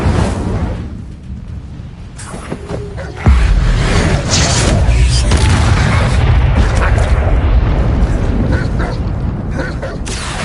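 Spell effects from Hogwarts Legacy, with the Incendio fire spell cast in quick succession among others: dense whooshing, rumbling magical blasts and crackles, loud and continuous with a heavy boom partway through.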